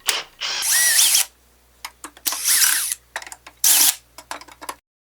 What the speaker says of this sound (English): We'll start by removing the screws on the handle.